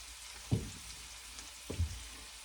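Something sautéing in a pan for braised lamb shanks, a faint steady frying hiss with two louder scraping stirs, near and with no voices.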